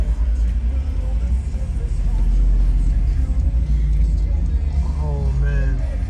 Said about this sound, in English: This is a V8? Yeah. It sounds like a V8.